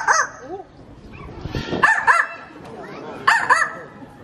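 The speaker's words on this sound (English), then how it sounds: "He has learned to bark like a dog." A trained animal at a safari park gives a few short dog-like barks and yips, scattered across a few seconds, with someone talking over and between them.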